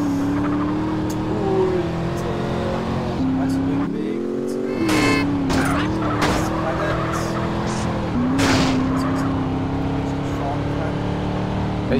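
Car engine in GTA San Andreas droning and revving steadily, with the pitch dropping and recovering as tires skid, while people talk over the game sound.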